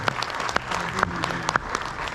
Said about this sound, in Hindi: उनका एक बार जोरदार तालियों से स्वागत किया जाए